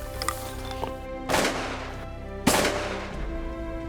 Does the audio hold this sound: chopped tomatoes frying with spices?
no